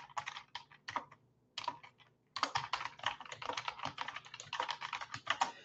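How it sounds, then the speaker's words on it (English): Fingers tap on a computer keyboard, entering notes into a real estate listing action plan, a quick irregular patter of close keystrokes with short gaps between bursts. "you would type those in the notes"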